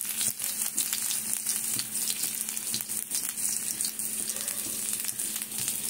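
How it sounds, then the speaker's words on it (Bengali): Garlic sizzles in oil in a frying pan, a dense, continuous close-up crackle and hiss with faint stirring, steady and loud with no talking. "প্রথমে রসুনটা দিয়ে দেবো।"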